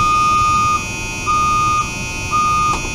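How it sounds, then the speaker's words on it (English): Skoolie bus reversing buzzer sounding in repeated steady tones, each about half a second long, over a constant idling engine hum. "I can turn the buzzer for the reversing buzzer on and off"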